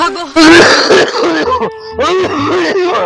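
A person coughs and clears their throat with strained, groaning vocal sounds, close and loud, mixed with moaning voice.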